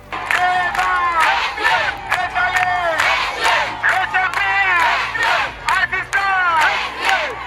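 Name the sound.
crowd cheering to welcome the foundation in a village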